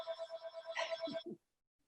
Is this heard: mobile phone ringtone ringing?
yes